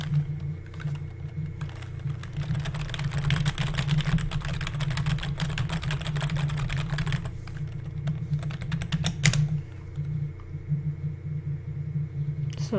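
Steady, fast typing on a computer keyboard as commands are entered for a private game server, with dense close clicking throughout and a low hum underneath.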